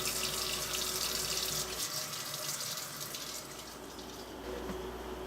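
Tap water runs steadily into a kitchen sink while shrimp are rinsed, a broad, close hiss that is constant throughout, with slight shifts as hands move under the stream and no talking.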